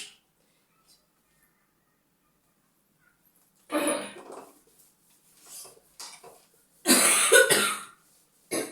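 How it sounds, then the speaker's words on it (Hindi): A woman coughs several times close to the microphone, in harsh bursts broken by silent gaps, with a throat-clearing sound among them. "खांसी और तबीयत ऐसी हो जाती है"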